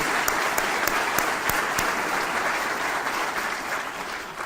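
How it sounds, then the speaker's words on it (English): Sustained audience applause fills a White House tribal nations conference hall, dense steady clapping with a few sharper claps standing out near the start, holding loud throughout before easing slightly at the end. "could we give the team at Interior and the White House a big round of applause?"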